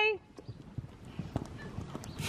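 A horse cantering, its hooves striking the ground in a soft, rhythmic clip-clop under a rider's talk, with a brief whinny-like sound at the start.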